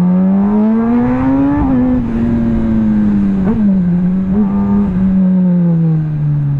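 A Kawasaki ZX10RR motorcycle with a tailored-fit exhaust hums along at steady revs, its strong tonal drone gently rising and dipping as the throttle shifts, close and loud, with no voices.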